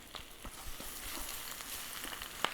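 An egg frying in a pan gives a soft, steady sizzle, faint and close, with a few small pops and crackles scattered through and a sharper tick near the end.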